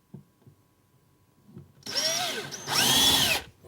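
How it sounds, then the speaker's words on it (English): A power drill boring a pilot hole in a cabinet door, starting with a few soft knocks, then two loud whirring bursts as the motor spins up and bites into the wood. "And I get my drill"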